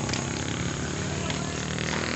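Motorcycles pass through a busy town public market in Pangasinan, their engines forming a steady, loud, continuous drone of passing traffic, with a faint voice mixed into the crowd noise.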